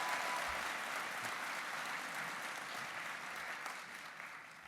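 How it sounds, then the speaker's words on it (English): Steady applause from an audience fills the room for several seconds, a dense wash of clapping that slowly tapers off, with no voices over it. "Yeah, they do deserve a round of applause."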